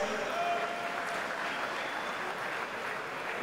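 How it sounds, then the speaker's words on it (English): Steady applause fills a swimming venue at the Aon NZ Open Championships finals, honouring a swimmer who set a new 15-year-old New Zealand age group record; dense, even clapping from a crowd continues without a break. "Everyone, give him a big round of applause"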